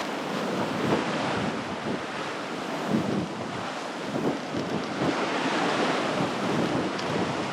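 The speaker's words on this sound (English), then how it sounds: "we're taking water over the bow" Ocean waves and gusting wind buffet a Beneteau 423 sailboat under two reefs, close hauled at about 7 knots at sunset with water coming over the bow; steady loud wash and wind roar with surges, no talking.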